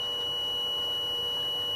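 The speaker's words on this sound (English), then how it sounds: "disconnect the circuit so the alarm stops going" A boat's bilge alarm buzzes as one steady, high-pitched electronic tone that runs unbroken throughout. A low background hum sits beneath it.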